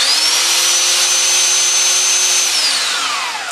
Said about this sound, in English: I got it on drill or hammer drill right now